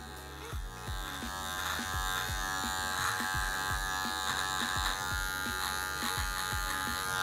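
Electric hair clipper fitted with a 1.5 guard trims a beard in a barbershop fade, a steady close buzz with a quick rhythmic pulse from repeated strokes, with no talking.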